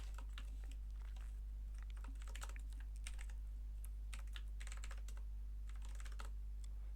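Keys clatter on a computer keyboard in irregular bursts of close, light clicks while entering a C program, over a low steady hum and with no speech.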